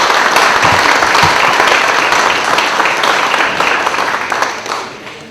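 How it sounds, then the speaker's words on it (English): A crowd at a local art exhibition applauds with dense, continuous clapping that fades slightly toward the end. "Let's give them a round of applause for the beautiful art"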